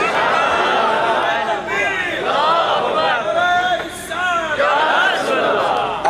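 A large crowd roars a loud chanted response to a slogan at a religious gathering, repeated swelling waves of massed voices filling the space for several seconds.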